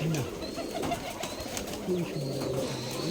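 Giribaz pigeons coo softly nearby in a courtyard, several low rolling calls repeating over a faint background murmur.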